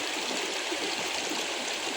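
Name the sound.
flowing river where two rivers meet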